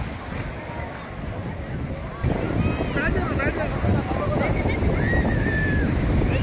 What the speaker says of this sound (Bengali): আমরা সেই বিচেই এসেছি